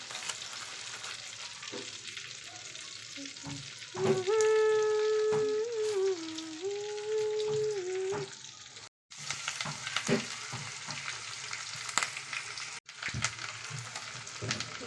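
Butter and garam masala frying in a pan for Mumbai-style pav bhaji, giving a steady close sizzle with stirring scrapes. A sustained tonal whine rises above it midway, and a brief dropout breaks the sound near the middle.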